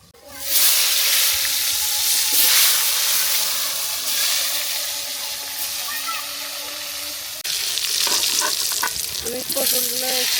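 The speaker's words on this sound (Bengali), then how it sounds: "আমি পটলগুলো একটু কেটে কেটে ভেজে নিচ্ছি" Pointed gourd pieces fry in a hot pan, a loud, continuous sizzle close by, with a brief drop and then scraping and stirring clatter toward the end.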